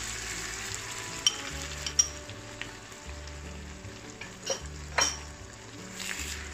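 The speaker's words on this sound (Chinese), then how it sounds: "这时候我们炒到差不多，就加入鸡蛋进去" Osmanthus egg stir-fry in a wok with eggs going in, a low steady sizzle broken by several sharp clinks and scrapes of a spatula against metal, fairly quiet, no talk.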